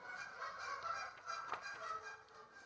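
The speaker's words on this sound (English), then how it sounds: "there's a lot of geese honking outside my window" Several geese honking outside a window, faint and distant, overlapping nasal honks in a loose, irregular chorus with a soft background hiss.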